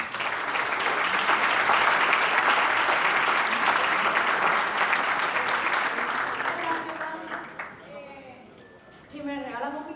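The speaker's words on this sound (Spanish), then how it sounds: "La recibimos con un fuerte aplauso." A full audience at the 2018 Coparmex business forum breaks into strong applause welcoming a speaker, dense and steady for several seconds before fading into a voice speaking.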